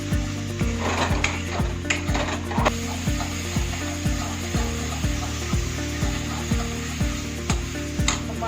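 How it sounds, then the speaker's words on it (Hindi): Masala spices fry in a pan with a steady low sizzle, while repeated scraping and tapping stir strokes keep a loose rhythm close by. "अब मैं मसाला को अच्छे से फ्राई करूंगी।"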